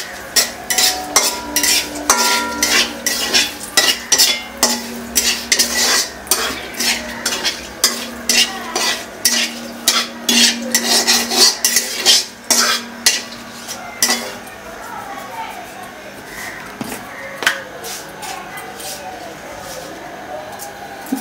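Cumin seeds going into hot oil in a pan with bay leaf, a loud run of rapid spoon strokes and metallic scraping over a sizzle that later settles into quieter frying.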